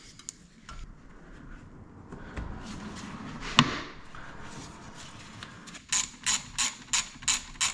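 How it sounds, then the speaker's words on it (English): A bolt is tightened on the valve cover of a second-generation Toyota 4Runner, with soft metallic handling at first, then a close run of about six rapid ratchet clicks near the end. "don't forget to tighten down this bolt, this nut and this bolt down here by the AGR."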